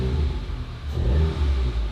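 A VW Golf R MK7 with a rough-running engine idles and pulls away in drive, a low, close engine drone that swells slightly as the car starts moving, with no talk over it.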